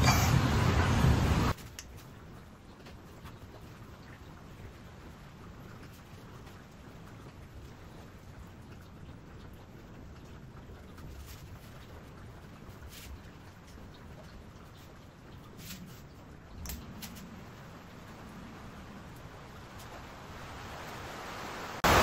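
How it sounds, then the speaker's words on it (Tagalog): Steady, dense typhoon rain hisses for a long stretch, with a louder gust of noise at the very start and occasional faint knocks. "Grabe, lakas sa ulan."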